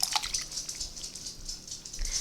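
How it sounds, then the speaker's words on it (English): Pork broth pouring steadily into a pot, a close splashing gurgle with a few drips, lasting a couple of seconds. "So I'm going to go ahead and pour all of this in."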